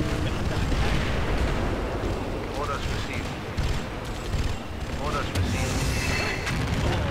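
Booming missile launches from a German rocket base in the strategy game Empires: Dawn of the Modern World, a rumbling barrage of blasts and explosions rolling on at a loud, steady level with brief dips between volleys.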